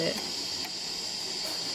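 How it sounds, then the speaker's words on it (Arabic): Butter bubbles and sizzles in a pan with a steady, soft hiss throughout, close by and fairly quiet. "وها هو راه كيغلي دابا"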